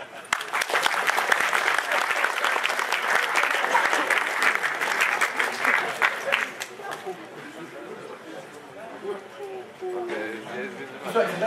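Audience applause for a volunteer at a talk on pitching games: dense, loud clapping for about seven seconds that thins and fades, leaving murmuring voices and a brief swell of claps near the end.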